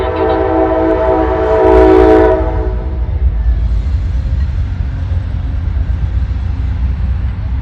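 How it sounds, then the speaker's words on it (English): Passenger train passing through Tucson, with a long, loud horn blast early on that fades into a heavy, sustained rumble of rolling wheels and railcars. "That's another passenger train."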